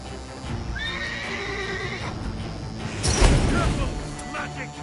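In The Witcher 3, a horse gives a loud, close neigh lasting about a second, with hooves clopping before and after, amid a game battle with shouting voices and a crash midway.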